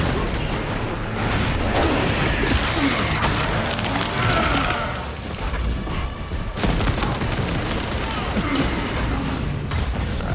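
Enemy gunfire and booming blasts in the Space Marine video game, a dense chaotic battle din of shots, explosions and mechanical clatter running steadily throughout, loud and close.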